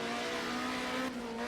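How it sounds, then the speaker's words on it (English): A Ford Sierra Group A touring car in a racing game at Silverstone International screams at high revs, a loud, steady, close engine tone held through the whole short moment. "Hear the scream of that Sierra."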